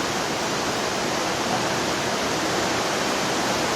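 Water poured into seed-starting containers and draining away, a steady broadband rushing and trickling hiss that stays even throughout with no talk.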